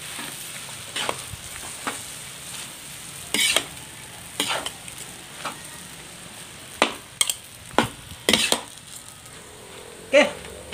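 Pancit bihon rice noodles being stirred as they fry in a pan, with a steady low sizzle and scattered sharp scraping and clacking strokes of the utensil, some louder bursts near the end, no talk.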